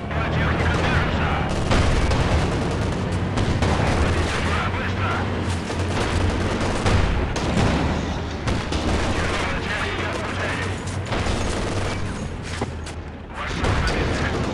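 MG-42 machine gun fire rattles through a Company of Heroes battle, with continuous dense bursts and explosions blending into a loud, unbroken wall of combat noise.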